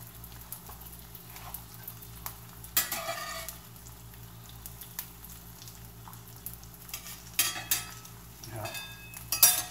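Eggs frying in a preheated cast iron pan stamped with a buffalo nickel head: a steady close sizzle with occasional louder scrapes and clinks of a utensil stirring against the iron.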